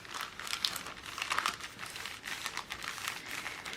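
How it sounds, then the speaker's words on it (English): Layers of paper are pressed down firmly on a handmade rustic sunflower paper bag album, giving steady close crinkling and rustling that rises and falls for several seconds with no talk. "you wanna kind of press that down really well because there's so many layers of paper here"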